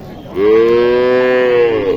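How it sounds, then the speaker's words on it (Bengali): A single long, loud moo from a nearby dairy cow at a cattle market in Naogaon, held steady for over a second before trailing off. "এইখানে একটি আছে গাভি দেখেন"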